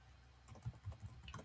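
Quick bursts of typing on a computer keyboard, soft irregular key clicks that pick up in a brief run of taps, close but quiet.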